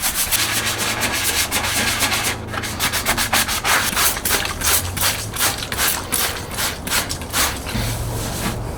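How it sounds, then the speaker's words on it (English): Steady, rhythmic rasping of wet sanding body filler on a Toyota Tacoma by hand, continuous back-and-forth strokes close up, fairly loud, with no voices. "Wet sanding removes excess dust and lets me view my progress."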